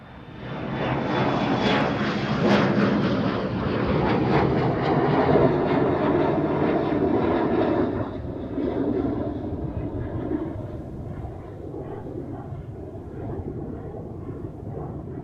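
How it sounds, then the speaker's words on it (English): Airliner passing at Amsterdam Schiphol Airport, a loud engine roar with a high whine that holds strong, then eases into a lower, fading rumble. "a flight is coming your way now"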